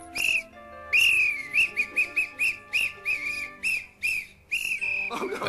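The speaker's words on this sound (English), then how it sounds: "Oh, that noise! That whistle! Stop that noise!" A small toy whistle is blown over and over in short, shrill, bird-like toots, a long blast followed by a rapid series of quick chirpy bursts, loud and close.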